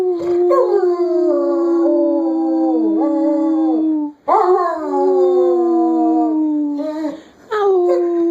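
An injured dog howls loudly and close by in long, wavering tones, pausing briefly between drawn-out howls.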